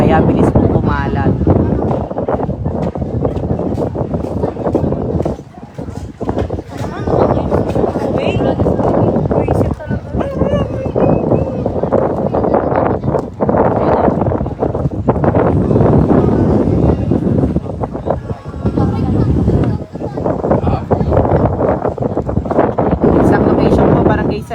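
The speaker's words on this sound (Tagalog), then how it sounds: "Malakas po ang hangin" Strong wind roars and buffets the microphone in a constant loud rush, with people talking underneath, during a large residential fire in Dalahican, Cavite City.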